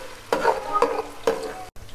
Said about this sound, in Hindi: अब मैं इसमें अदरक लहसुन का पेस्ट डालूंगी, इसको मिक्स।